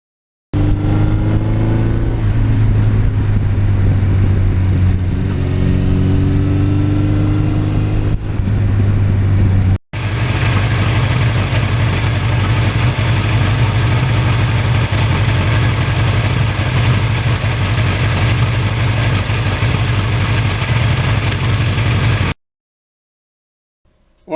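A 1982 Suzuki GS1100E motorcycle engine runs steadily close by, a strong low idle-like drone with a brief break near ten seconds before resuming loud and even, then cutting to silence at the end.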